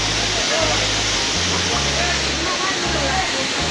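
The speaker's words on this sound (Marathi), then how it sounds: "आपण किती असा सुंदर असा पाणी पडताना दृश्य आपण बघू शकता" Das Khadka waterfall near Kurkheda, in a hilly setting, pours in a loud, steady roar of falling water, with a person speaking over it throughout.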